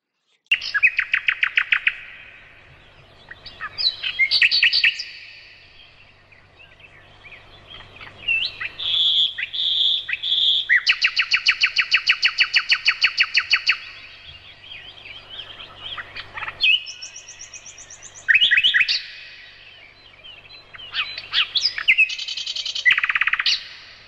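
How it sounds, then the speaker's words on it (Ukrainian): A nightingale sings in an evening grove, bright varied phrases and rapid trills repeating for over twenty seconds, clear and fairly close with no voices. "вечірній гай і спів солов'я"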